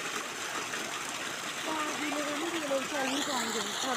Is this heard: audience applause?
no